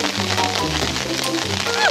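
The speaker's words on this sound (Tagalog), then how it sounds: "Sobrang lakas ng ulan, no?" Heavy rain pours down as a dense, steady hiss of drops that stays loud and unbroken throughout.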